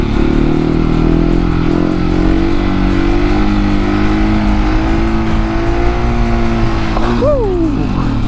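A Husqvarna 701 motorcycle engine drones loud and steady in second gear, accelerating with a rising, strained tone before a quick rev sweep near the end as the rider lifts into a wheelie.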